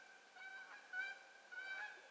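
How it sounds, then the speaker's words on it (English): Canada geese honk overhead, faint and distant, in a few drawn-out calls that rise and fade against quiet outdoor air, with no talk. "there was some geese, Canadian geese overhead"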